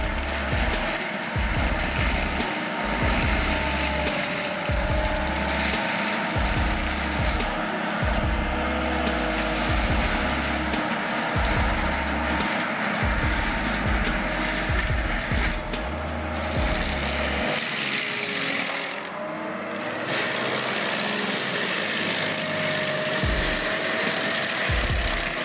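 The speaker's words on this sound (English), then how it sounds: "the powerful PT600 with the FAE 500 mulching head, equipped with a 600 horsepower engine" A PT600 tracked mulcher with an FAE 500 mulching head and 600 horsepower engine roars continuously, its loud machine drone pulsing with repeated heavy low thuds as the head chews vegetation, dipping briefly before resuming.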